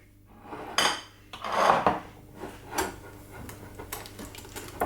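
An egg added to a bowl and mixed, with clinking and scraping of a utensil against the bowl in irregular bursts, some sharper knocks among softer stirring, close by with no voices.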